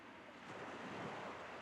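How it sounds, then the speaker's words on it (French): Cartoon ocean waves make a soft, steady wash of surf that swells slightly, faint and continuous, with no voices. "le bruit des vagues augmenta"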